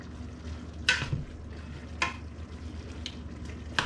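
Ground beef with whole garlic cloves frying in a pan for a semi-homemade spaghetti sauce, giving a steady low sizzle broken by a few sharp scraping stirs, close and moderately loud, with no talking.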